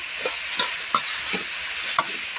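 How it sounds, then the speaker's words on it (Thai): Thai holy basil stir-fry (pad kra pao) sizzles steadily in a pan while a utensil scrapes and stirs it in a few distinct strokes, close and moderately loud. "เสร็จแล้วจะทำเมนูผัดกระเพรา"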